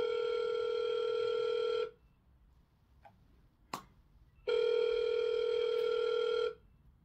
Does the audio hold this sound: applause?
no